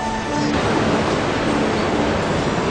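The Dan River at Tel Dan, a major source of the Jordan, rushing in a steady, loud, broadband wash of flowing water close by, with no voices.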